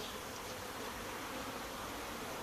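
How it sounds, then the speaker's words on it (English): Honey bees buzz around an open hive, a dense, even hum of many insects, faint and continuous with no voices. "Those bees hopefully will walk around the hive and go to the front."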